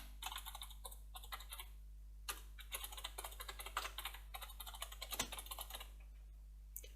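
A computer keyboard clatters under fast, uneven typing in bursts of close, crisp key clicks over a quiet low hum, with no voice.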